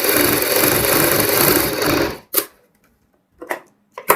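A sewing machine runs steadily for about two seconds as it stitches along the edge of buckram for a kurti front neck, then stops, with a few brief clicks and short bursts of handling afterward.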